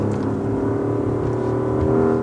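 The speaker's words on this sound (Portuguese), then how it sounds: "comparar o ronco de um V6 e V8 e você imediatamente associar esse rosnado grave, mais poderoso, com mais massa sonora" A 2024 Porsche Cayenne S twin-turbo V8 rumbles with a deep, steady roar, the engine held at a constant pitch close by and fairly loud, with no talking.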